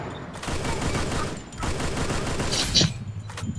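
Sustained automatic gunfire in the video game Free Fire, a dense rapid volley that runs almost continuously, breaks briefly, then resumes, with a sharp click or clank near the end.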